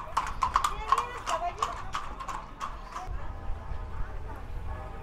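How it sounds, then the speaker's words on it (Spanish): Horses clip-clop along a town street in Capilla de Guadalupe, Mexico, with a quick run of sharp hoof strikes up front that thins out as they pass, over faint background voices. "¡Caballos!"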